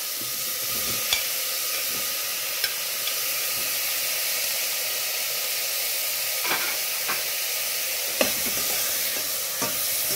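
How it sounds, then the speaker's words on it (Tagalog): Tomatoes fry in a hot pan for a Cebu-style fish stew, a steady close sizzle broken by a few sharp clicks of stirring, with no voices. "ilagay na natin ang ating kamatis o tomatoes at saka iba."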